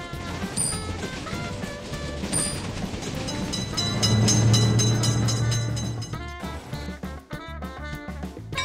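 In a railroad crossing simulator game, a train rumbles past with rhythmic clatter, layered over busy electronic game music and effects, growing louder midway before the music shifts.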